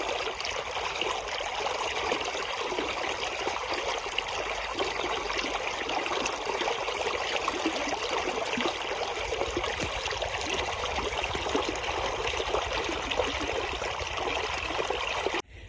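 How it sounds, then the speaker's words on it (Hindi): Irrigation water from a tubewell gushes steadily into a field channel, a continuous close rushing flow with no talk. "पहले हम देखते हैं पानी आया कि नहीं आया"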